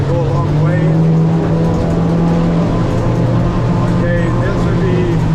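A Stabicraft 1850 Fisher boat's outboard motor runs with a steady, loud, droning hum throughout, while someone speaks over it.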